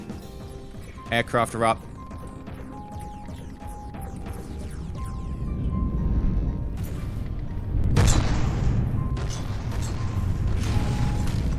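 Booming cannon shots and impact crashes from a naval battle in the game From the Depths, with a heavier burst of blasts in the second half under steady background rumble while someone talks over the action.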